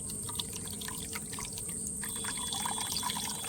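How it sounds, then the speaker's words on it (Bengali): Whey drains from chhena, fresh cottage cheese, through a cloth into a kitchen vessel, giving a steady close trickling and dripping of liquid with no talk. "এবার একটা কাপড়ের দ্বারা আমি ছেঁকে নেব"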